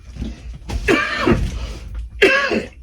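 A few harsh, throaty coughs, close and fairly loud, spaced out with short pauses between them.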